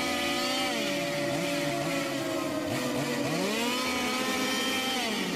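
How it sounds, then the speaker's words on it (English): A chainsaw in the horror video game INDAGAR drones loudly and continuously, its pitch sliding up and down as it revs, with a dense noisy whine throughout and no speech. "The chainsaw sound scared the shit out of me"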